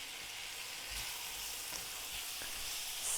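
A cinnamon filling for Halloween party food simmers in a pot over medium heat, giving a steady, faint hissing bubble with small soft pops, close and even throughout, with no voices.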